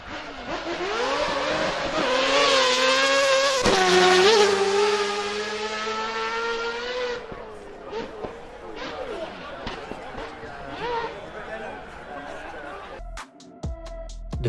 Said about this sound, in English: This build was inspired by the Mazda race cars competing at Le Mans in the 90s, hence it's powered by 4-rotor NA engine.